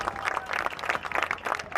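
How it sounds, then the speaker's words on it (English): A crowd at a high school football game applauds steadily, dense clapping filling the whole moment with a lively, continuous patter. "Big round of applause for him"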